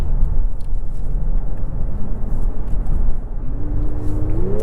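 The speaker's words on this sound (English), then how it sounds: "That VTEC crossover just sounds so good" A 2025 Honda Pilot Black Edition's VTEC engine rumbles loudly from inside the cabin, then its pitch climbs smoothly as it accelerates through the final seconds.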